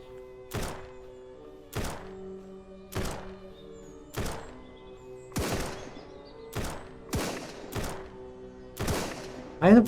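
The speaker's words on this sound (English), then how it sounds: "Bandit assault, they have assault rifles." Bandits fire assault rifles in SurrounDead, heard as sharp single reports spaced about a second apart, each ringing with a hollow, distant echo.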